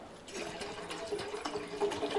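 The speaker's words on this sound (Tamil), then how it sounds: "தேவையான அளவு தண்ணி ஊற்றிக்கலாம்" Water is poured into a pot to make herbal tea, giving a continuous close splashing and trickling fill that grows slightly louder over a couple of seconds.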